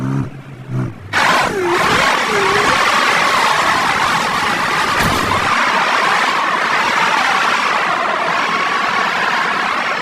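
A Ford Ranger engine revs into a loud, sustained roar after a brief quieter, uneven start, with a swooping rise and fall in pitch early on before it settles into a steady, close drone.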